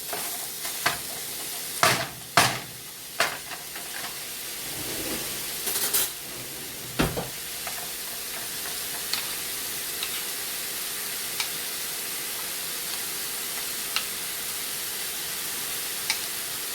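Ground meat browns in a pan for a breakfast tater tot casserole. Several sharp spatula scrapes and knocks come early, then settle into a soft, continuous sizzle with sparse clicks, and no voices.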